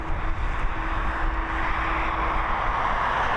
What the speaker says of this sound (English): Emirates is now on taxi.